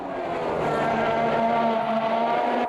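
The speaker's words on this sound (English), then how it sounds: "you can clearly hear the locking up" Race car engine in the Automobilista 2 racing game on a wet track, a loud steady high-revving whine holding pitch, with tyres locking up under braking.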